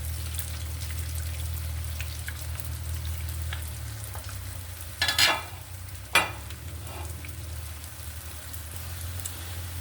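Food frying in hot oil for cabbage fritters, a steady soft sizzle with a couple of sharper spattering bursts in the middle.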